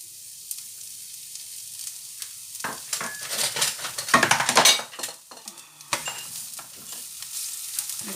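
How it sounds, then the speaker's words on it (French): Onions sauté in olive oil in a pan, a quiet sizzle that swells as a utensil stirs and clinks against the pan, then settles back to a soft, steady hiss. "je vais déjà faire revenir les oignons"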